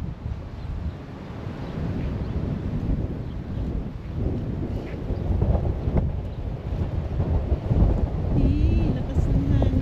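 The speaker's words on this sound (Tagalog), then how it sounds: "Lakas ng hangin." Strong wind buffets the microphone along a cherry blossom walk, with a loud, continuous low roar that swells and gusts unevenly and rises toward the end.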